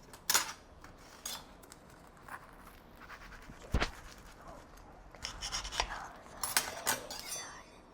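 A knife slicing through an egg sandwich on a board makes faint scattered scrapes and light taps, with one sharp knock partway through and a cluster of soft crunchy cuts near the end, all quiet and close.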